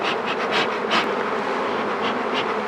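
Honeybees buzz close and loud at a beehive during an inspection, a dense continuous drone with individual bees flaring nearer now and then, no voices.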